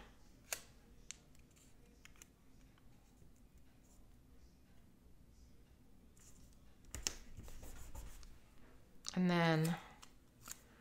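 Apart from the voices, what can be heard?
scissors cutting a sticker in half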